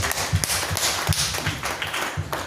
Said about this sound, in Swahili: Tukampigia makofi yetu.